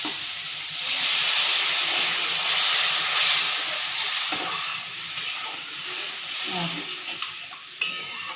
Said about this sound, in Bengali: গ্রেভিটা মাখো মাখো হয়ে গেছে এর মধ্যে আমি জল দিয়ে দেবো